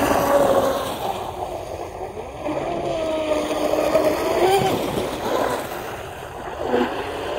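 A small high-revving motor of a Blackjack 42 RC speedboat on a 6S battery whines steadily over a pond, its pitch rising and dipping as the little boat speeds along.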